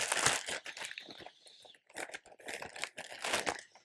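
A clear plastic zip-top bag crinkles and rustles up close in irregular handfuls, with a brief lull partway through before the crackling picks up again.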